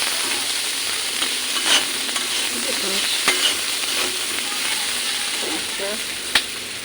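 Bitter gourd frying with pieces of fish belly gives a steady, moderately loud sizzle, broken by a few sharp clinks and scrapes of a spatula stirring the pan.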